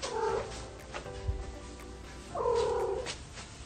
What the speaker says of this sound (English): Have you ever heard of a vocalization called a trill in cats?